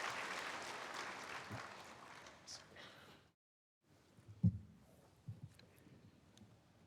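A church congregation applauds to welcome a man coming forward to give his testimony before a baptism. The faint, distant clapping lasts about three seconds, then gives way to a hush and a few soft thumps.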